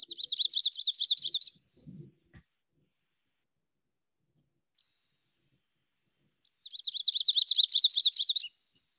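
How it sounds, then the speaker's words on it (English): A yellow-rumped warbler sings twice, each time a quick high burbling trill lasting about a second and a half. Several seconds of near silence separate the two songs, broken only by faint soft knocks. "So let's take a listen. The yellow-rumped warbler."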